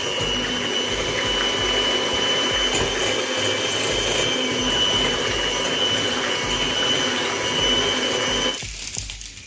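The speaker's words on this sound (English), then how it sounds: "Whisk. 5 eggs. Whisk. Start on low first." Electric hand mixer running steadily on low speed while whisking five eggs for a sponge cake, a loud continuous motor whir with bowl rattle that cuts off just before the end.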